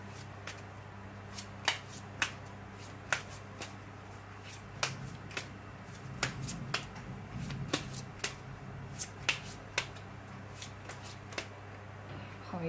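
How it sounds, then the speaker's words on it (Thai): Tarot cards are shuffled by hand, giving a steady series of crisp, close riffles and soft snaps spaced about a second apart over a quiet room hum. "โอเคสับไพ่ไว้ประมาณนึงแล้วเนาะ"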